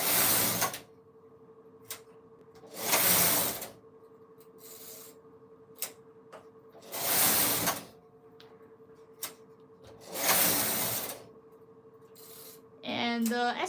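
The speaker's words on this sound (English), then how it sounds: "the biggest advantage of this model of knitting machine is it's very smooth to operate and it's very stable" A Silver Reed SK280 knitting machine working a punch card pattern, its carriage sliding back and forth in four or five regular sweeping passes with faint clicks between them and a sharp rattling burst at the end.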